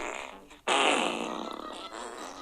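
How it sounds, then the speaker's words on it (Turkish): A single loud, drawn-out fart bursts in suddenly after a faint murmur and sputters on for about two seconds, close and raspy. "Sen bana mı osurdun?"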